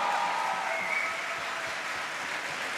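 An audience at the Mar Gregorios College of Law College Day claps steadily. The applause is dense and even, filling the whole short moment, then fades slightly toward the end.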